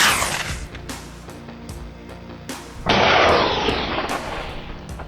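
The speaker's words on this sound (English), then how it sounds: "I raised my rifle, steadying my hand. The shot rang out sharp and cold." Rifle shots during a leopard hunt: several sharp, loud cracks spaced across the clip, one followed by a long booming rumble that rolls out and decays, with no voices.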